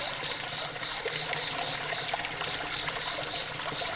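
Fountain water trickles and splashes steadily in a cottage exploration video game, a continuous bright, hissing flow that stays even throughout with no talk over it.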